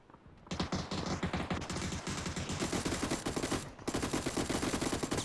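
Rapid bursts of PUBG gunfire rattle continuously, dense and loud, with a brief pause before the firing resumes.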